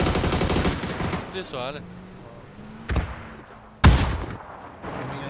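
Gunfire in a first-person shooter match, with several sharp, loud shots and bursts standing out among excited player chatter and other game sounds.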